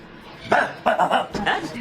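A person imitates a dog barking, giving three or four short, gruff voiced bursts in quick succession, close and fairly loud over a quiet background.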